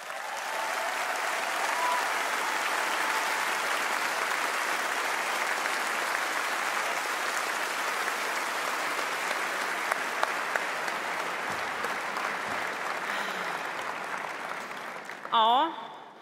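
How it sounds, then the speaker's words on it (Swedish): A large audience at a sports awards gala for the Fair Play prize applauds steadily and at length as a dense, even wash of clapping. A few bright tones sound near the end. "Så jag tycker vi ger dem en jättestor applåd."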